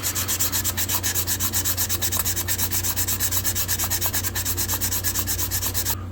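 Sandpaper rubbed rapidly back and forth over a vintage German knife blade to remove a rust spot, a rhythmic close-up scratchy swish repeating several times per second, steady and alone for about six seconds.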